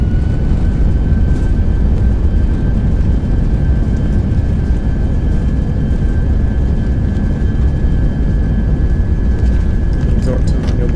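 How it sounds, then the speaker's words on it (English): Thrust reversers roar on a simulated Spirit Airlines A320 just after touchdown, a loud, dense, continuous engine rush with a thin steady whine running through it. The roar holds at full strength for the whole stretch. "Let's get the reversers out."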